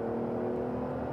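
A 1990s BMW 850Ci E31 coupe with its V12 engine pulls hard from standstill in a 0-100 km/h run, a steady loud engine drone filling the short stretch with no talk over it.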